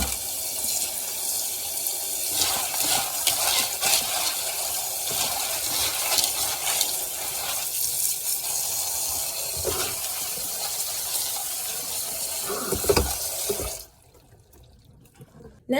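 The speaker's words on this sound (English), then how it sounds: "So I'm gonna take half the bag in the colander and just rinse them." Tap water runs steadily over dried black beans in a colander in a kitchen sink, with a rushing, splashing wash that rattles slightly. It continues for most of the time, then the flow cuts off, leaving near silence.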